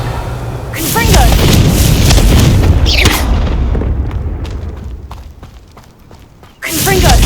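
A heavy Confringo blasting spell explosion in Hogwarts Legacy erupts with a deep, loud boom that rumbles and slowly fades, then a second sharp blast strikes near the end. A voice speaks over the first blast.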